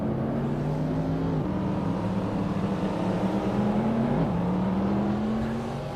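A loud, continuous race car engine in a sim racing event at Canadian Tire Motorsport Park, droning steadily with pitch shifts between gears through a corner and onto the straight, close and unbroken for the whole stretch.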